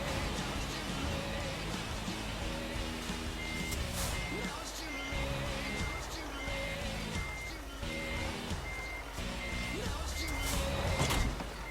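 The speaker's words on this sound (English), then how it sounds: "Oh, okay, I'm gonna tip the trailer." A truck in Euro Truck Simulator 2 tips its trailer while steady reversing beeps repeat over rumbling engine and hydraulic clunks, with a voice talking intermittently.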